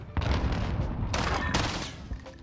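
Gunfire from a burst-fire weapon in Call of Duty: Modern Warfare comes as two close, loud rattling bursts over a busy, rumbling battle soundscape.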